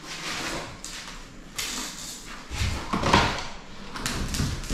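A door opening inside an old holiday-camp building, heard as a few muffled knocks and a scraping movement against a room's background hiss, with people speaking softly nearby.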